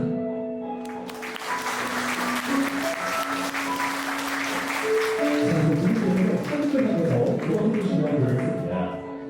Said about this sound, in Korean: 다시 한번 따뜻한 축하의 박수로 부탁드립니다.